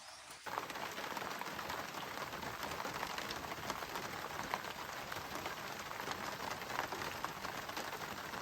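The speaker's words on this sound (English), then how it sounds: "That rain is coming down good." Steady heavy rain pours down at a remote cabin building site in the woods in a dense, continuous hiss, loud and unbroken throughout.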